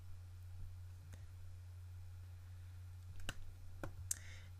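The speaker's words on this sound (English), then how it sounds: "click OK" Sharp, faint computer mouse clicks land a few times, isolated against a quiet background with a low steady hum, with the closest pair near the end.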